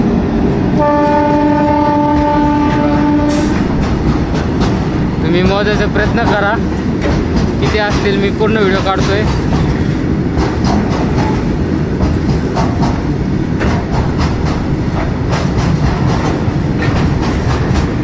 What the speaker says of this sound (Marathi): तेलाचे टँकर घेऊन येणारी ट्रेन आलेली बघा एकदम जवळून